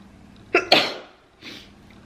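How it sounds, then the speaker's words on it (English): A single sharp sneeze from a woman recovering from a C-section, loud and close, with a fainter exhale or follow-up breath about a second later and no talking. "sneezing with the C-section hurt so bad"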